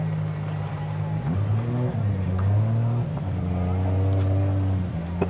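A supercharged drift car revs hard at a drift competition qualifying session, the engine note climbing and falling in repeated surges, heard at moderate distance under a commentator's voice.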